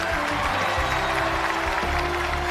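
Audience applause at a television awards gala, dense continuous clapping from a large hall crowd, with music playing underneath throughout.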